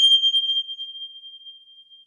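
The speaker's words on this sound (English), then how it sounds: "I use these bells to bring us back in." A single bright hand bell strike rings out during a meditation, its pure high tone sustaining and slowly fading.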